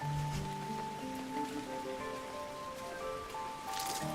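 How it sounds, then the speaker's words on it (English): Gentle rain ambience in the video game Loftia, a soft continuous patter of falling drops beneath sustained melodic music tones, calm and even throughout. "The soothing sound of gentle rain is an elegant backdrop"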